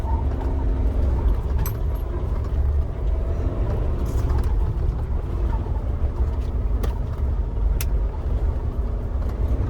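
A car being drifted on a road, its engine rumbling steadily and loudly throughout with occasional faint high clicks and squeaks over the continuous low drone.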